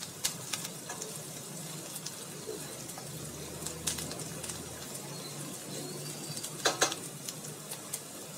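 Onions fry in a pan for idli masala, a soft continuous sizzle with occasional scraping stirs and light utensil clicks, close but quiet.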